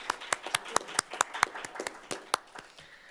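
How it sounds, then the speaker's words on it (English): Light, sparse clapping from a small student senate audience, a dozen or so distinct individual claps scattered unevenly over a few seconds in a quiet room. "So if you can give him a light clap,"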